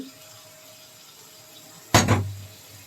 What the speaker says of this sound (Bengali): আর একটু পানি দিই